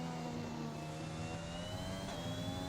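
A race car in a racing video game on a Russia circuit drones with a steady, high engine note, holding revs at a constant pitch throughout with a faint whine layered on top and no voices.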